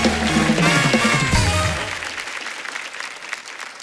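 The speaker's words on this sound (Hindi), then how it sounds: "जोरदार तालियां हो जाए एक बार इनके लिए।" A studio audience on a television comedy show bursts into strong applause for arriving guests. The dense clapping plays over music for about two seconds, then thins and fades away.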